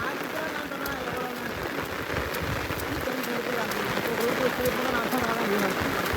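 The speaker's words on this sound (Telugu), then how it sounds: "ఈ వర్షానికి వినబడతలేదు, ఈ గొడుగు సప్పుడు ఒకటి." Heavy rain drums steadily and densely on an umbrella held close overhead, a constant patter that never lets up.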